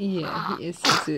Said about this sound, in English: Big sneeze.